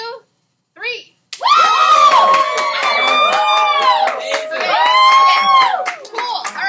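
A school algebra class erupts in cheering and clapping after a count, with loud sustained whoops, shouts and applause from many students, preceded by a few brief voices.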